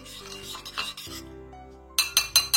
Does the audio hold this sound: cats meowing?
no